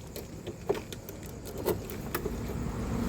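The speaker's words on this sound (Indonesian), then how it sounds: "Setelah itu kunci kontak kita on kan." Ignition key turned on a Honda Vario scooter with a starter fault: a few soft jangling clicks from the key over a steady low background hum, close and quiet.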